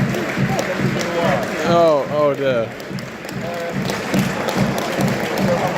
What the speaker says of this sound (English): But we're clapping. I don't know why we're clapping.